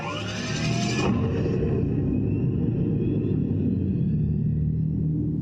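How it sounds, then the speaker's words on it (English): Simulated exhaust rumble from the speaker of the new electric Dodge Charger, a deep steady synthetic engine drone that swells briefly then settles into a continuous low growl, close and unbroken. "This is what the exhaust speaker sounds like on the new electric Dodge Charger."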